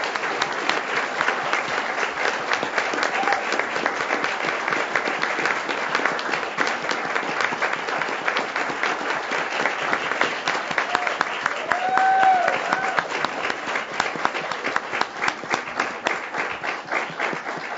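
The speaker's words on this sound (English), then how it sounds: "give him a round of applause" Audience at a school board meeting applauding a coach, sustained steady clapping from a roomful of people lasting the whole stretch, with a brief voice partway through.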